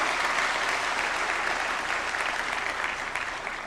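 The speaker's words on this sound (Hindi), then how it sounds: "तालियों के साथ अभिनंदन" Sustained applause from a large audience, steady clapping that fades slightly toward the end.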